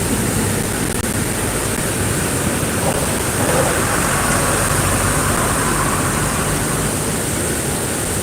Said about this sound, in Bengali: তার সাথে হিউজ বৃষ্টি পাল্লা দিয়ে চলছে এতটাই বৃষ্টি আর হাওয়া